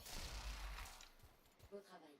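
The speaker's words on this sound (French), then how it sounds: "je vais tester mon canon" Loud booming blasts from a cannon in the video game Anthem, with a heavy low thump and crackling burst, followed by a few quieter shots as a voice talks underneath.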